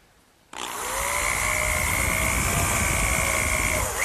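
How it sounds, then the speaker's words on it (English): A power drill bores a hole down into the wooden side frame of a hearth-side settle. The drill starts abruptly after a brief quiet moment and then runs loud and steady, with a constant whine, close to the listener. "drill a hole down into the side frame"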